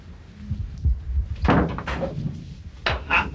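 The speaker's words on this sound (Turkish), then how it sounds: "Kapı. Ne oldu?" Dull thuds on an apartment door in a Turkish comedy series come as a few uneven knocks and bangs spread over a few seconds, fairly close and clear.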